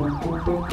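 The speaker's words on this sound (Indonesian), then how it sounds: "Ambulan datang ya, teman-teman." Ambulance siren in the GTA 5 video game, a loud wailing two-tone sweep rising and falling repeatedly, close and alone without talk.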